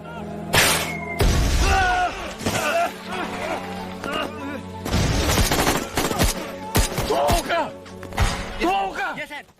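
Rapid bursts of gunfire crack and rattle in clusters, loud and close, with voices shouting over the shooting.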